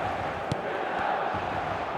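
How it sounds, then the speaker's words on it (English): A broad, steady roar of a stadium crowd on matchday in the eFootball 25 football game, a continuous distant wash of massed voices with a few faint sharp accents, no clear talk. "the matchday noise at this place is truly special"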